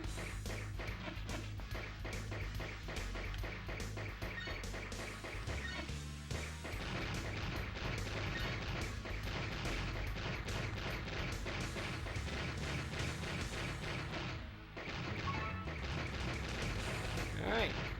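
Continuous explosions and rapid gunfire from the Blaster Master video game as objects are blasted apart, dense and loud throughout over game music, with a brief dip near the end.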